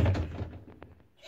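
A fist punches a locked door, giving one dull, heavy thud at the start that quickly fades, followed by a couple of faint taps and quiet room tone.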